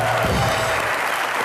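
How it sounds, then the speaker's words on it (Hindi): Loud studio audience applause on a comedy talk show, a thick, continuous burst of clapping hands without any speech. "फवाद और सोनम के लिए जोरदार तालियां।"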